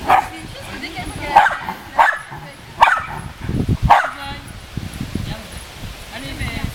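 A female dog with puppies barks about five times in short, sharp, evenly spaced bursts, close by, with rustling and people talking around it.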